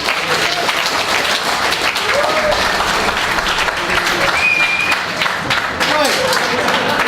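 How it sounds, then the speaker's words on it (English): An audience at an apprentice chef workshop in a culinary arts kitchen claps for a chef, dense continuous applause with a few voices over it. "Give him a round of applause, mate."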